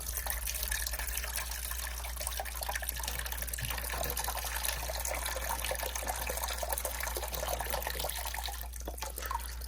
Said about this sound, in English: Water is gonna flow down here.